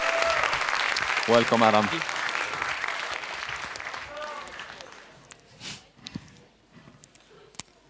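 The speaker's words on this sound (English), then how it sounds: "Give him a warm applause." Audience applause welcoming a young science presenter to the stage at a student science symposium, a full burst of clapping from a crowd that fades out, with a host's voice speaking over it.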